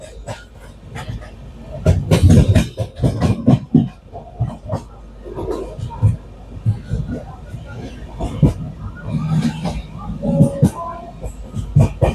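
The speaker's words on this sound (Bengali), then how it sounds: "পঁচিশ মিনিট লেটে চলছে ট্রেনটা" The 12857 Tamralipta Express runs from Howrah toward Digha, with uneven rattling clacks and rumbling from the carriage mixed with voices talking nearby.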